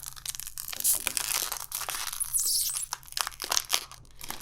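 A Magnum No Added Sugar Vanilla Caramel ice cream wrapper being torn open up close, crinkly tearing and crunching in uneven bursts, fairly quiet with no talk.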